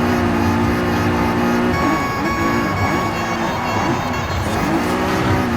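A race car in Forza Horizon 5 roars loudly and steadily, its engine drone shifting pitch as it slows under braking with some tire noise.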